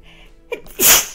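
A single sharp sneeze, a short intake followed by a loud burst, close and alone over quiet game background in Stardew Valley.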